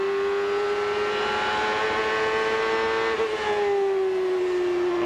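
A 1996 CART race car engine at Milwaukee holds a steady high-pitched scream at full throttle, pitch sliding slightly up and down, loud and continuous with a faint drop near the end.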